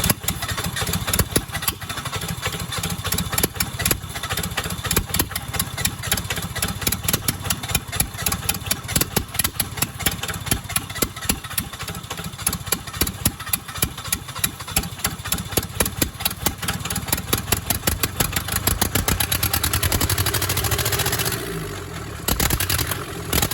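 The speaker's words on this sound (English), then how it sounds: "after we started that engine up" An old, cheap skid steer engine runs after a hard start, a steady mid-pitched idle with rapid knocking pulses, loud and close, then briefly changing and dropping near the end.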